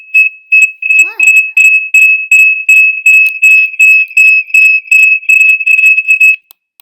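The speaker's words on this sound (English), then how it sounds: "What is that beeping noise?" Loud, rapid electronic beeping pulses in an even rhythm for about six seconds and then stops abruptly, with a brief voice at the start.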